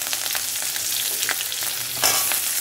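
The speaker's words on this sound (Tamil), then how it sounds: "நல்லா வதங்கட்டாங்க" Onions, green chilies and curry leaves sauté in a hot pan for bisibelabath, a steady close sizzle with light stirring scrapes and a brighter burst of frying near the end, no talking.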